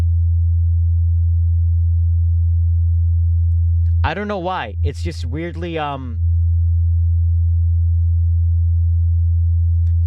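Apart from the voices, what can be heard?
sine wave tone from laptop speaker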